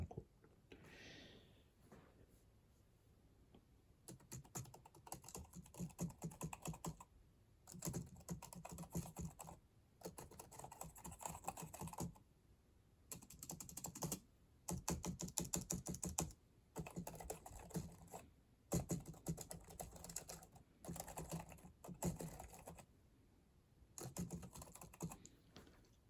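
Typing on a quiet computer keyboard, soft rapid key clicks in bursts with short gaps, close and fairly faint.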